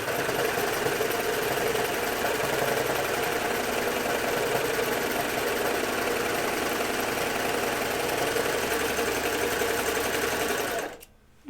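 A sewing machine stitches a pair of True/Bias Hudson pants in one long, steady, loud run of rapid needle strokes that stops abruptly near the end.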